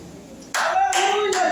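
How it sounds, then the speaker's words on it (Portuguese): Church congregation bursting into clapping after a short spoken lead-in, close rhythmic hand claps mixed with a sustained voice or tone. "Glorifica a Deus com palmas."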